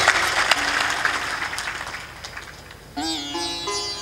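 Audience applause during a Hindi religious discourse by a sant, scattered clapping from a gathering that fades over a few seconds before a voice begins singing or chanting.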